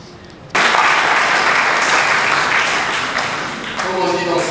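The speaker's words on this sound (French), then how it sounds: "on les applaudit eux, mais on peut nous applaudir nous-mêmes aussi" Conference audience applause that starts abruptly after a short quiet moment and becomes sustained, dense clapping from many people, loud and close, with speech faintly underneath near the end.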